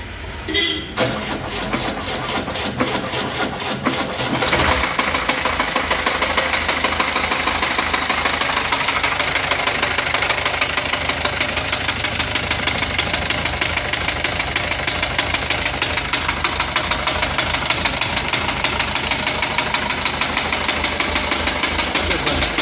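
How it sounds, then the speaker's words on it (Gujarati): Car engine with a worn connecting rod bearing, idling at a garage with a steady, loud, rapid knocking that runs continuously after a brief uneven start. "તો આપણે ગાડી ચાલુ કરીને ચેક કરાવું કે આ એન્જિનની અંદર કેવો અવાજ છે"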